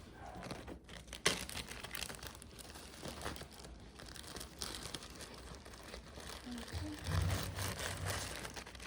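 Soft, close crinkling and rustling of a paper towel being folded into fourths and slipped into a Ziploc bag, with a sharper crackle early on and quiet continuous handling throughout.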